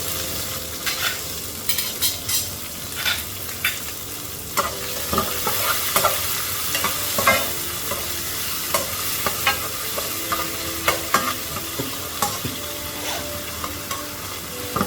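Cumin seeds, a bay leaf, two dried chilies and onion frying in hot oil for a chicken and potato curry, a steady sizzle broken by repeated clinks and scrapes of a spatula stirring in the pan, with no talking.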